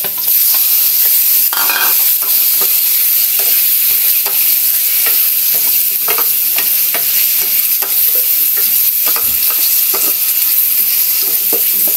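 Chicken gizzards and liver for adobo sizzle steadily in a hot pan, with repeated scraping stirs of a spoon or spatula cutting through the constant frying hiss, close and loud, no voices.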